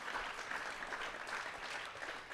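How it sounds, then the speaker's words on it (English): Crowd applause at the finale night of the Calgary Investment Summit, a fairly quiet but continuous wash of clapping from the audience throughout. "Big round of applause to everybody,"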